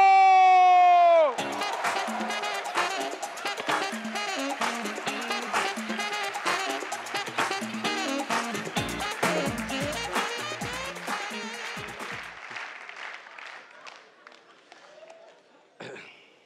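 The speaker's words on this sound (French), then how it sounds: "Un tonnerre d'applaudissements pour Malade à mort!" A stand-up comedy show audience cheers and claps as a comedian and impressionist is introduced, with bright music starting the burst. Busy clapping, whoops and crowd noise continue loudly for several seconds, then gradually die away.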